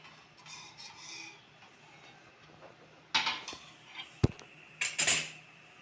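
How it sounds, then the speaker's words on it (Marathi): A metal wire rack set down on a griddle after the griddle is lifted off, making light rasping and clinking metal contacts, with a sharp knock and a few scraping clatters toward the end. "तवा काढते आणि याच्यावर जाळी ठेवते"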